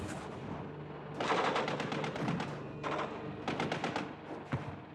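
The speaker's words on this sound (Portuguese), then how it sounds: "os fuzileiros receberam diversos tiros do topo de uma barreira de mais de 300 metros" Bursts of rapid gunfire from a clifftop in World War II combat, with machine-gun volleys and separate loud shots crackling in waves over an ongoing battle din.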